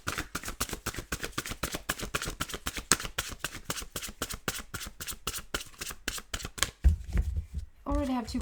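Tarot cards are shuffled in a rapid, steady riffle of crisp papery flicks close by, stopping near the end when a voice begins speaking.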